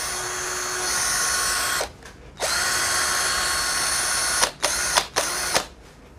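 A Hiroki HRCBP21 impact drill with polisher attachment whirs at a steady high pitch, stops, starts again, then cuts in and out in several short bursts.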